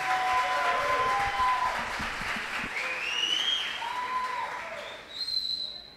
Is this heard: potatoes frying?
no